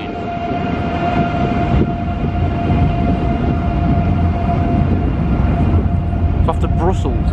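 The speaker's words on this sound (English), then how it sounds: "Nice train." A train bound for Brussels rumbles past loudly and close by in Cologne in a steady, heavy roar, with a voice speaking over the noise and a brief squeal near the end.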